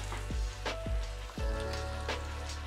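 A breaded, Parmesan-crusted flathead fillet dropped into hot oil in a pan gives a soft sizzle with a few sharp spits and crackles, close and fairly quiet, with no talking.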